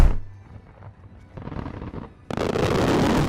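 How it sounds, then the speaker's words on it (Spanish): Fireworks display at a South Korean festival in Seoul: scattered crackling pops and thuds, then a sudden loud, dense rushing barrage that carries on to the end. "El Festival de Fuegos Artificiales de Corea del Sur ha iluminado este fin de semana los cielos de Seúl."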